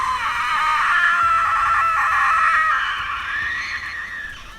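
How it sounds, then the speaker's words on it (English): A woman screams for several seconds in a cramped enclosed space, a sustained high, anguished cry as she is struck by acid spray, loud and continuous before fading slightly at the end. "her screaming filled the claustrophobic space."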